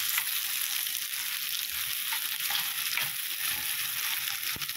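Onion sizzles in a hot pan, a steady, close, bright hiss with occasional faint pops and stirring scrapes throughout, no voices.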